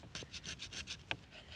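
Flint tool scraping soft wet wood by hand, a series of short rhythmic rasping strokes, about eight in quick succession with one sharper scrape near the end, close and fairly quiet.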